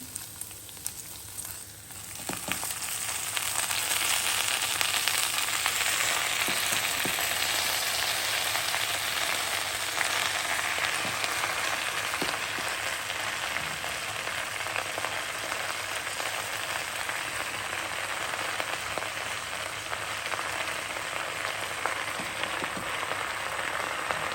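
Gongura leaves with tamarind cook in a pan under a soft, continuous sizzle that holds steady throughout, close by and with no voices.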